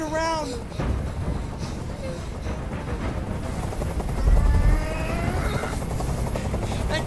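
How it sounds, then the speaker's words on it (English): Helicopter in the video game Detroit: Become Human, a continuous rotor rumble with low thumping, playing under talk that runs throughout. "Tell that helicopter to get out of here."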